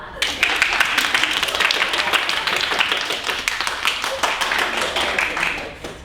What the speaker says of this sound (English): So you 2 have the loudest claps according to my ears